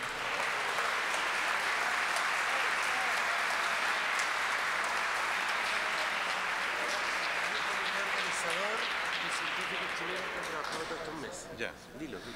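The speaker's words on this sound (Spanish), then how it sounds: "También un aplauso grande para los jóvenes." An audience at a conference seminar gives young students long, steady applause, a dense wash of clapping that thins slightly near the end.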